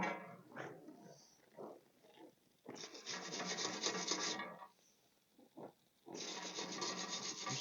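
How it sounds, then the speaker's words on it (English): Stainless steel wire brush scrubbing brass residue off a steel bike frame, two long loud rasping bursts separated by shorter scraping strokes, close up with no talk. "If we come in with a stainless steel wire brush as well, we can get rid of some of this brass"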